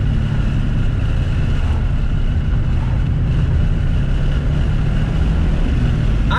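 A 1994 Subaru WRX STI engine pulls hard out of bends on a winding road, a loud, continuous engine drone mixed with wind and road noise from inside the moving car.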